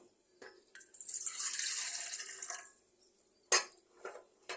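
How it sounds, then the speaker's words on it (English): A cup of water is poured into the pan of a VEVOR bread machine, giving a brief trickling splash of about two seconds followed by a few soft knocks and clinks. "So the first thing I'll start with is the water, and I'm going to put a cup of water."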